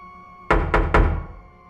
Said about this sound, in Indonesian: Suara ketukan pintu yang memecah suasana mereka berdua.